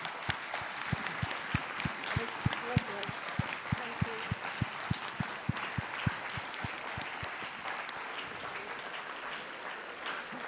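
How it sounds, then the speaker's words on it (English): Steady applause from a crowd at a sports tournament opening ceremony in Aachen, many hands clapping continuously with a few louder individual claps standing out, lasting throughout. "I thank you very much and welcome you to clap for Mrs. Annette Headley's long life."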